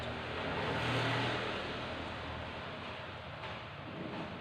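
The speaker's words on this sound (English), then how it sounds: "these gears are noisy" A flywheel-assisted bicycle with noisy gears being ridden, giving a steady, fairly loud mechanical whirr and rumble close by with no talking.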